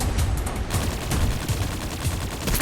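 Dense, rapid gunfire from the Farlight 84 video game crackles nonstop, loud and close, in a sustained automatic burst with no talking.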